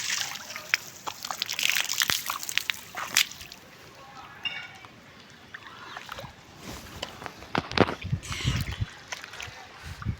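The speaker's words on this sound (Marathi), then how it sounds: "तर बघा, हे पाण्याचा डबाक कसं साठलेलं आहे." Water sloshing and splashing in a pooled puddle near a newly built house, with irregular close splashes and trickles, and voices heard at times.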